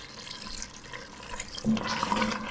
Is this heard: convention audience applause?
no